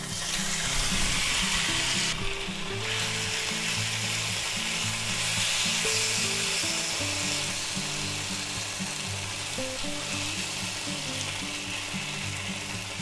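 Marinated shrimp sizzle in an oiled pan with a steady, crackling hiss, while soft background music plays underneath.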